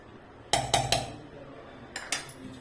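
A spoon clinks against a bowl while mango pickle is stirred: three sharp metallic knocks close together, a pause, then two more and a faint final tap, close and clear with no talk.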